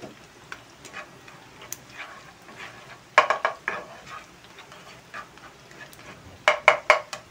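Breaded pork chop frying in melted butter over a low flame, with a soft steady sizzle broken by bursts of clinking and scraping as a utensil works the pan; no talking.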